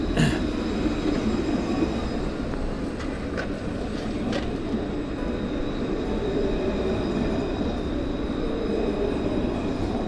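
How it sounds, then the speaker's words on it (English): A steady, loud rumble of a tram rolling past nearby, continuous for the whole stretch with faint metallic squeals on top. "we'll watch for the tram to go by"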